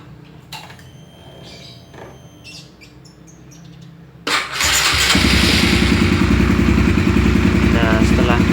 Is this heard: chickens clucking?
no